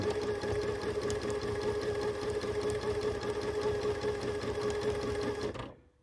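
A sewing machine runs steadily through free-motion quilting, a fast continuous mechanical chatter of stitching held at an even loudness for about five and a half seconds before cutting off abruptly.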